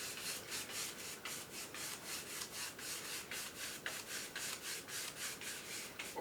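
Rhythmic crisscross paintbrush strokes spreading titanium white thinned with thinner across a canvas, a steady series of close, brushy scrubbing swishes at an even pace.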